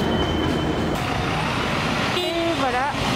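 A Paris metro line 14 train at Gare de Lyon station rumbles under the station's echoing noise, and a short series of tones sounds near the end.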